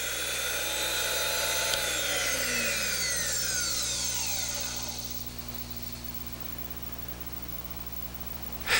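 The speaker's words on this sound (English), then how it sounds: "Now, sharpen the small bit, but use very light pressure and fewer white mark to white mark rotations." A DD Classic 250 drill bit sharpening machine grinds a small bit with light pressure, giving a continuous high, whining grind with sweeping pitch changes that fades after about five seconds into a low motor hum, with a brief knock at the end.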